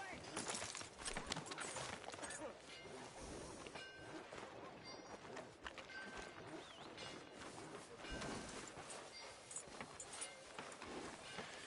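Horse hooves clip-clop in the Western video game Red Dead Redemption 2, a steady close rhythm of hoof strikes continuing throughout over ambient game sound.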